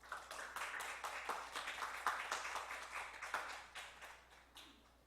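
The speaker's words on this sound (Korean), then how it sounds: "큰 박수로 맞이해 주시면 감사하겠습니다." An audience claps at an academic conference welcome ceremony, with dense, moderately faint applause that keeps a steady patter and fades out toward the end.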